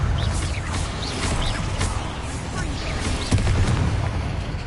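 Confringo explosive spell blasts in the Hogwarts Legacy video game, a dense rumbling barrage of booms and crackles with whooshing magical effects layered over it, loud and continuous throughout.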